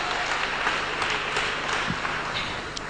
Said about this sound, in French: say amen and clap to God